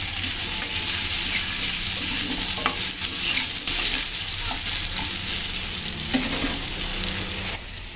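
Papaya with turmeric lightly frying in a pan for a chana dal dish, giving a steady close sizzle with soft stirring scrapes throughout and no talking.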